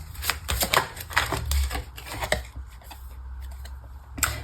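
Tarot cards are handled and shuffled close by, with a run of crisp slaps, riffles and clicks that thins out toward the end before one last snap. No one talks.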